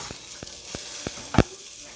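Eggs frying in a pan give a soft, steady sizzle. Faint periodic clicks run through it, then a sharper scrape or clatter near the end. A voice can be heard briefly.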